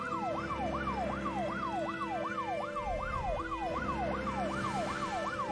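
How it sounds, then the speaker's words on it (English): An ambulance siren wails in the video game Troubleshooter: Abandoned Children, a rapid rising-and-falling yelp repeating steadily for several seconds over a constant low rumble, loud and alone. "Albus, I'll go with him in the ambulance."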